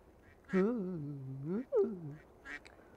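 Cartoonish duck quacks from a Roblox game, two drawn-out nasal calls in quick succession followed by a short faint honk, loud and close with little else around them.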